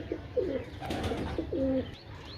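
A pigeon coos close by in two soft, rounded, wavering phrases over faint room noise.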